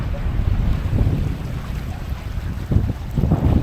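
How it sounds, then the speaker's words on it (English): Wind gusting at a Lake Huron harbor edge in Rogers City, Michigan, during rain, a steady low rumble and buffeting against the microphone with water sloshing beneath, continuous and fairly loud with surges near the end. "Hopefully the wind doesn't get too bad for you."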